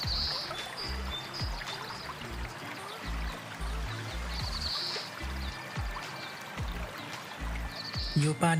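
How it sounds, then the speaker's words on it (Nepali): River stream near Mount Beauty in Victoria, Australia, with clear water over stones, giving a soft continuous rushing and trickling wash, fairly faint, with a voice talking over it. "नदीको आवाज"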